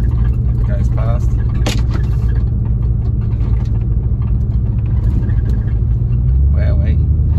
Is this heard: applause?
no